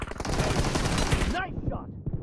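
Rapid bursts of automatic gunfire in the mobile battle royale game PUBG Mobile, loud and dense for over a second before cutting off into a brief reverberating tail.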